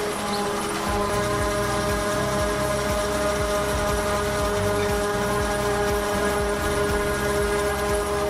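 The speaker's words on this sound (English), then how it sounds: "Class Jaguar 840 is a famous forage harvester from Germany, used to cut and chop lavender in the vast purple fields of France" A Claas Jaguar 840 forage harvester of up to 585 horsepower cutting and chopping lavender in a French field, its loud, steady engine drone carrying a rhythmic chopping pulse throughout, with no voices.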